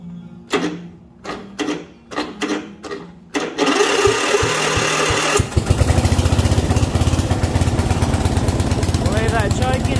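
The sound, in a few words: Yard Machine MTD riding mower engine starting and running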